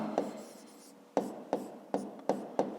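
A pen taps and scratches on paper while someone works through a fifth-grade geometry exercise, one short stroke followed after a pause by four quick, evenly spaced marks, close and quiet.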